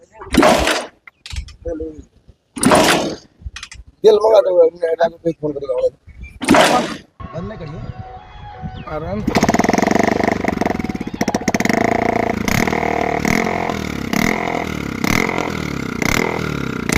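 An old motorcycle kept on a fourth-floor landing is kicked over with several thumps between bursts of talking, then catches and idles with a steady, loud, slightly uneven engine putter under continued chatter.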